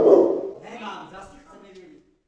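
A dog inside a house gives a short bark or yelp at the start, then fades into softer whimpering sounds, close by and brief.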